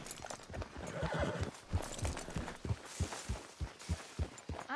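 A horse in Red Dead Redemption 2 neighs and whinnies several times while its hooves clop in a steady, close rhythm, with ambient game sound underneath.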